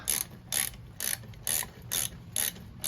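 A ratchet tightens the exhaust header bolts on a Honda Grom motorcycle in short bursts of rapid clicking, about six even strokes with brief pauses between them, close and crisp.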